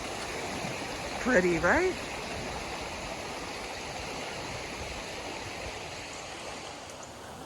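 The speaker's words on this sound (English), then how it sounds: "The stream where the apples are." A mountain stream flows with a steady broadband rush of water, close and continuous along a trail, with a person speaking briefly over it.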